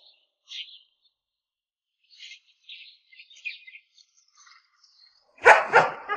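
A dog in a village barks twice in quick succession near the end, loud and close, after scattered faint bird chirps over an otherwise quiet background.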